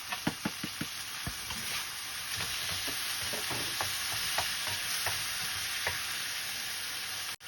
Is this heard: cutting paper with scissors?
no